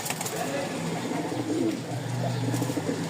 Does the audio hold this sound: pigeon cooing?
yes